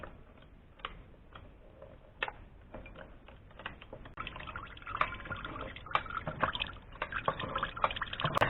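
Apple juice dripping and trickling from a homemade cider press, irregular close ticks and drips that grow busier and louder toward the end, with no voices.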